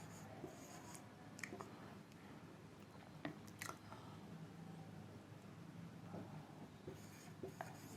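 Faint scratchy strokes and light taps of writing on a board during a Class 9 maths lesson, soft and intermittent in a quiet room.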